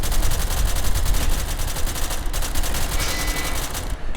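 Sustained rapid gunfire in the SCP: Secret Laboratory video game, dense continuous automatic shots filling the whole stretch, loud and close with no speech over it.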